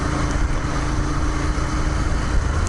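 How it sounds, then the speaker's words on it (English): Motorcycle engine with its stock exhaust running at a steady, even drone, a constant low rumble heard close throughout with no clear revs. "I love the sound of this thing. It's got a good exhaust note."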